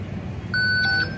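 A payment terminal gives one clear, steady electronic beep, about half a second long, when a phone is tapped to pay with Google Pay, over a low background hum.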